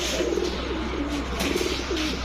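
Naptha pigeons, a breeding pair of male and female, coo in low rolling repeated phrases, close by over a steady background hum.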